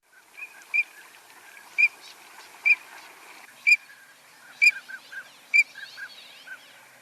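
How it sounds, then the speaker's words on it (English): A recording of green-winged teal plays, giving evenly spaced high, clear peeping calls about once a second, fairly loud over a faint hiss, with softer chattering notes toward the end. "the peeping on the green-winged teal is quite a bit louder and less kind of soft and delicate"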